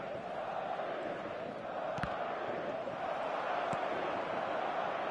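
A stadium crowd in the eFootball 2025 football video game, a dense, steady roar of cheering voices with a couple of sharp knocks, heard from within the stands and without commentary.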